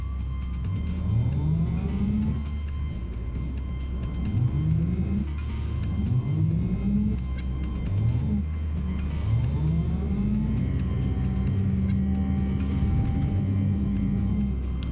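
Cyberpunk 2077 truck with an electric-style drivetrain driving steadily, its low rumbling hum overlaid by repeated rising whines as it speeds up again and again, loud and continuous throughout.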